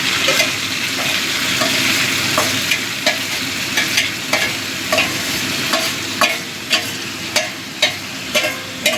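Marinated chicken sizzles in a pan of browned fried onions, a steady loud frying hiss broken by regular scraping clicks of stirring, with no talking.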